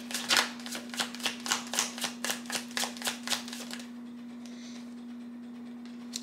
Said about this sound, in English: Let's get one more card here.